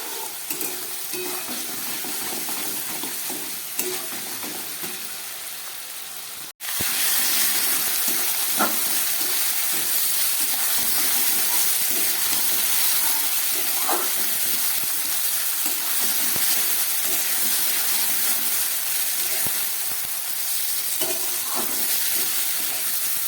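Cumin and ginger paste fries in a pan while cooking tangra fish, giving a steady close sizzle and hiss, with a brief dropout near the start and scattered soft stirring clicks afterward.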